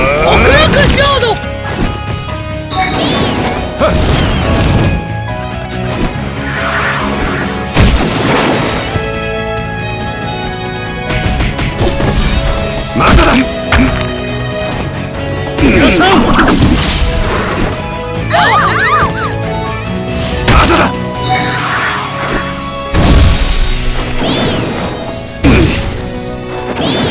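Explosion attacks in the Naruto Online game during a tournament match, heard as repeated loud smashing blasts and whooshes over a dense game soundtrack, with voice lines running throughout.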